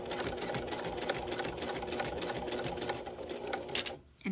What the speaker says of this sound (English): That's called stitching in the ditch.